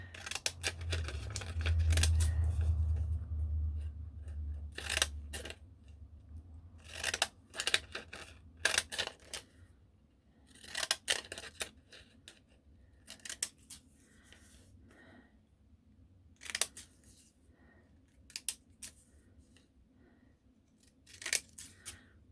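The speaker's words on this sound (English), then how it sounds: "All you do is you cut it out with these patterned scissors." Patterned scissors snipping through paper in short, irregular bursts with pauses between cuts, close to the microphone over a quiet background.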